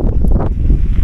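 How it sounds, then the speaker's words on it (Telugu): Strong wind on an eighth-floor rooftop in Leh buffets the microphone with a loud, low, continuous rumble over its whole short span, with no one speaking. "విండ్ కూడా ఎక్కువ వస్తుంది"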